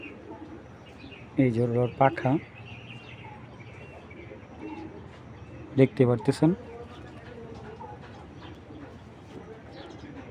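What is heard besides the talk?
pigeon cooing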